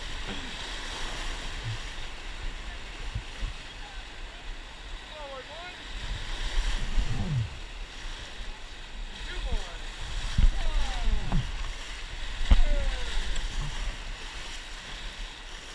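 Raft paddling down a river in Bighorn Sheep Canyon, steady rushing water with scattered paddle splashes and knocks, faint voices and shouts here and there over the flow.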